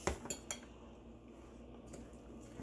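Stuffed mushroom filling mixed with breadcrumbs in a bowl, a few quiet utensil clinks and scrapes against the bowl at the start, then faint low handling sounds.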